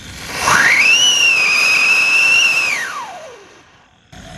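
A Diwali siren firecracker: a loud rising whistle climbs, holds a shrill steady pitch for about two seconds, then falls away and fades, ending with a faint pop.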